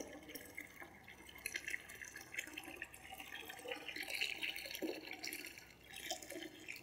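Hot water for a foot bath is handled and poured, giving quiet trickling, splashing and dripping sounds with a few clinks of a container, faint and uneven throughout.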